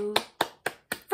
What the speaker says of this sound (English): I'm going to clap my hands with you.